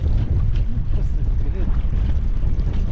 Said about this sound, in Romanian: văd că bate vântul foarte tare